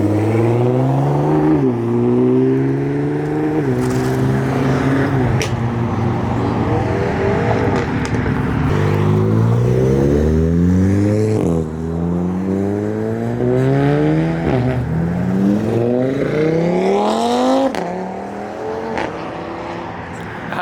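A modified Nissan GT-R with its exhaust valves open screams loudly through repeated rising rev sweeps and gear changes on a cold road, struggling for traction, the engine note climbing and dropping in close, aggressive waves.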